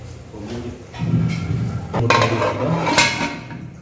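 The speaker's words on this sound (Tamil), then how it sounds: "மூடி வச்சு" A lid is set onto a cooking pot of lentil and broad bean curry, giving a few close metallic clanks and a sharp clink near the end, over low kitchen background sound.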